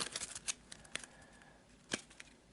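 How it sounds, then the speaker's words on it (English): A deck of cards for a board game gets a quick shuffle and cut on a tabletop, a few close, crisp riffling snaps and flicks spaced apart, quiet overall with no talking. "We'll give it a quick shuffle and a quick cut"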